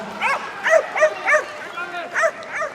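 Dogs at a Crufts flyball team competition bark in quick repeated yips, about eight sharp barks in under three seconds, close and loud against a busy arena background.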